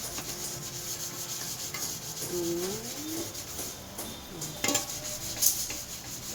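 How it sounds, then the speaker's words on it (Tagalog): A cooking pot being scrubbed with a magic sponge, producing soft, steady rubbing strokes at close range, with a brief murmur of voice over it. "Kasi nahihirapan na maglinis ng mga kaldero kaya ito gamitin natin."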